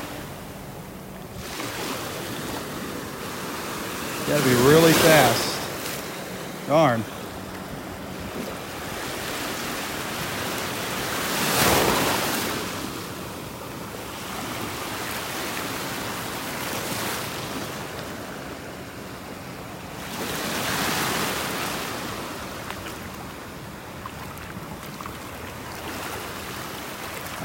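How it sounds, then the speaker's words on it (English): Ocean waves break and wash on a beach in North Naples, Florida, in steady surges with wind noise throughout, while someone briefly speaks over the surf. "The waves came and pulled it back into the water."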